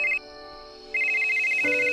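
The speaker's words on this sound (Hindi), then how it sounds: "तभी उसकी वाइफ का फोन आया।" A cartoon phone ringtone chimes for an incoming call: a bright, repeating electronic melody that pauses briefly and resumes, loud and close, with no voices over it.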